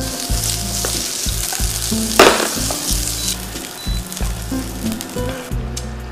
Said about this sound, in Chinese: 炒一下就行了